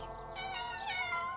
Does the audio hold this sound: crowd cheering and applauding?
no